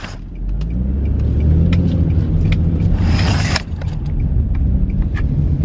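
An Infiniti G35 turns around in a U-turn, its engine rumbling loudly from inside the cabin with a steady low drone, a brief lift in revs and a few light rattles and clicks.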